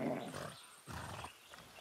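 A horse in the video game Far Cry 6 snorts and neighs in two short, close bursts with a pause between, fairly quiet and with no talk over it.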